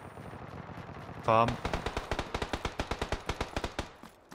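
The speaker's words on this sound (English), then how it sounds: "I'm being shot at again" Gunfire in the Xbox One game PUBG comes as a rapid, close burst of automatic shots after a brief voice, about twenty evenly spaced cracks over three seconds.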